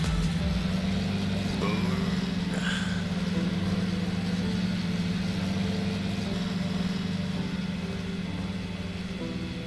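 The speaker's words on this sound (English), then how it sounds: "I love the sound of this tractor." A John Deere 8530 tractor engine in Farming Simulator 19 runs with a steady low drone and constant hum, holding an even level throughout with no talk.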